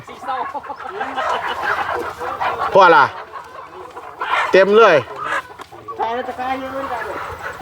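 Chickens clucking at a quiet Thai-Cambodian border market at the Chong An Ma crossing, several short calls rising above steady market chatter and someone talking throughout.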